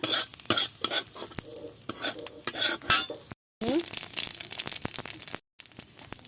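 Cumin seeds frying in oil for a bitter gourd and eggplant vegetable curry, crackling and sizzling close up with scraping stirs and pan clinks, briefly cutting to silence twice.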